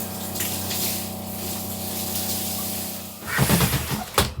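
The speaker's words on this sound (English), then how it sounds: "I'm having a shower in a van!" A shower runs inside a camper van, a steady close water hiss over a low pump hum, cutting off into a few louder clattering knocks near the end.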